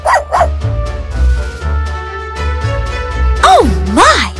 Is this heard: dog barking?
yes